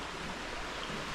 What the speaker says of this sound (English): We have a little stream.